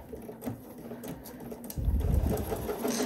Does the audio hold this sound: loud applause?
no